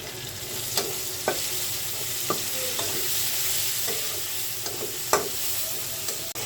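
Tomatoes and ground spices (chilli, coriander and cumin powder) fry in a pan for an okra and lentil dish, under a steady close sizzle broken by sharp, irregular scrapes of a spoon stirring.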